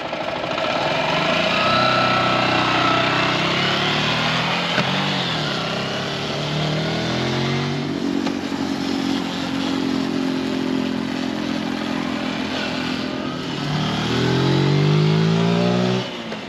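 A Zontes 125 motorcycle engine drones steadily, its pitch rising and falling as it shifts and accelerates, loud and continuous with wind noise.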